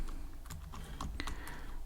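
Someone types Python code on a computer keyboard, with a quick, irregular patter of close key clicks and a few heavier taps, quiet and alone without talk.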